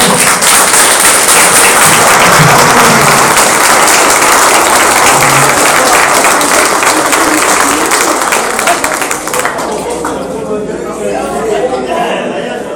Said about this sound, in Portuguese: Uma salva de palmas para todos